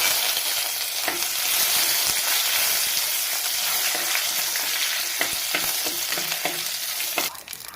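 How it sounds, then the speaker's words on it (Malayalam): Curry leaves sputter in hot oil with mustard seeds already popped, a bright continuous sizzle with scattered sharp crackles and a stirring clatter near the end, no talk. "നമ്മുടെ കടുക് ഇവിടെ പൊട്ടിക്കഴിഞ്ഞ് നമുക്കതിലേക്ക് 2 തണ്ട് കറിവേപ്പില ഊരിയിട്ട് കൊടുക്കാം"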